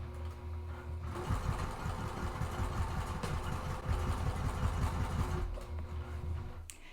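A sewing machine with a 90-14 needle runs a 3.0 length stitch slowly around a tote bag, a close, steady, rapid mechanical chatter lasting several seconds, with quieter motor hum before and after.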